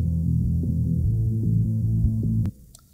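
A song's bass frequency band, soloed during mastering, plays as a deep throbbing low-end hum with muffled rhythmic notes, then cuts off abruptly near the end.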